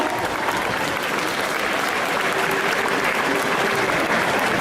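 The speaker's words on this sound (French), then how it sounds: "On peut l'applaudir bien fort." Dense, steady applause from a large crowd at an indoor cosplay contest during a festival, continuous and fairly loud throughout with no pauses.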